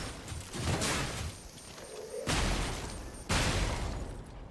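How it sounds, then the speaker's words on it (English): The Falcon Eyes Legion arm grenade launcher fires in the game Lies of P, giving three heavy booming blasts at about one-second intervals, each trailing off in a rumbling, crackling burst. "a long-range grenade launcher"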